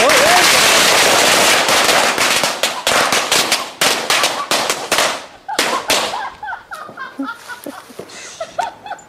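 A New Year's firecracker bomb goes off in a rapid crackling string of sharp, loud bangs that thin out toward the end, followed by scattered faint pops and a few voices.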